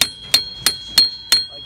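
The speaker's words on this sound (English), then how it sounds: "just force it down evenly with a hammer to lock it in" A hammer striking a steel wedge anchor to lock it onto reinforcing bar in a field pull-test rig: five sharp, ringing metallic blows at an even, steady rhythm, loud and close.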